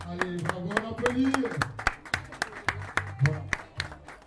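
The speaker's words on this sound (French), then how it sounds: "Allez, bravo, on applaudit." An audience at a shop inauguration claps steadily in a brisk, uneven rhythm, with loud nearby handclaps over crowd murmur and a few voices talking throughout.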